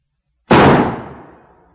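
A single loud revolver shot used as a sound effect in a radio drama, a sharp crack followed by a long decaying boom, with silence before it and no speech.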